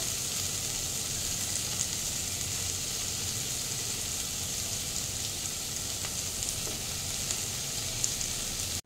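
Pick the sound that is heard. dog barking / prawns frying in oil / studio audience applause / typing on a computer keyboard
prawns frying in oil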